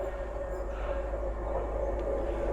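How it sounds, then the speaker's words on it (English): A train rolls into Bodmin Parkway station with a steady low rumble and hum, moderately loud and close, continuous with no talk. "And here is the train."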